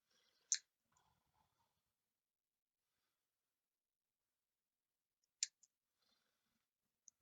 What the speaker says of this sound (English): I'm just trying to cut it half-inch by half-inch. So we'll just cut a few off of here